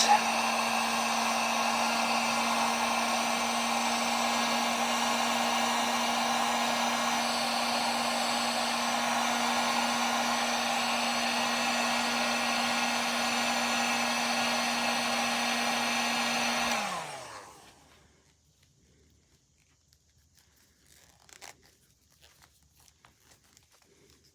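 A heat gun blows steadily on the knees of a Mattel Masterverse action figure, a loud, even electric whine and rush of air for about seventeen seconds before it switches off and winds down into near silence.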